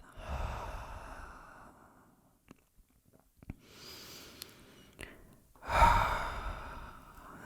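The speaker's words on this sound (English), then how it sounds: "Inhale and exhale deeply through your mouth." Slow, deep breaths during a slow hip-opening yoga flow, with long audible exhales through the mouth, a few breaths near and breathy with quiet gaps between, no talking.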